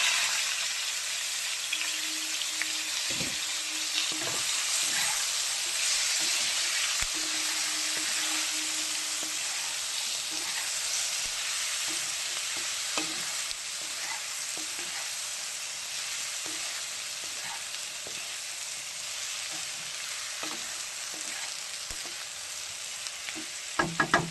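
Potatoes and a vegetable curry fry in a pan with a continuous hissing sizzle, punctuated by occasional scrapes and taps from a stirring utensil, steady and close throughout with no voices.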